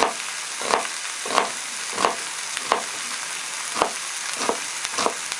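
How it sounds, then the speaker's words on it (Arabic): A small onion being chopped with a knife on a board, a steady series of about eight crisp, evenly spaced cuts over a light background sizzle, with no talking. "نقطع البصل، بصل صغير يعني احنا مش محتاجين بصل كتير"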